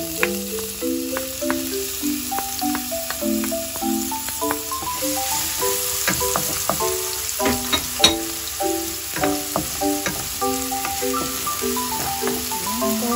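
Chopped garlic sizzles in hot olive oil in a pan, with a continuous crackling fry close by under a melodic music track.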